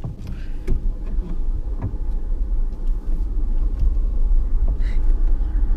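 A car engine runs with a steady low rumble, heard from close by inside the vehicle, with a few faint knocks and clicks over the continuous drone.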